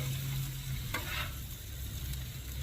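Shrimp sizzling on a grill, a soft, continuous frying hiss with a low steady hum beneath and a faint scrape, close but quiet, without speech.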